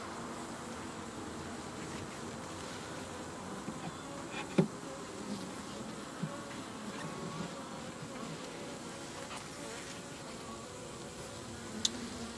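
Bees hum in a soft, continuous drone around a hive, faint and steady with a few brief clicks and knocks nearby and no talking.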